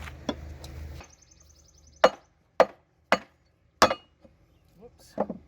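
Sharp hammer blows drive a 2x4 into place on a wooden shed ramp, five or six distinct knocks spaced about half a second apart, close and loud, following a short stretch of rustling at the start.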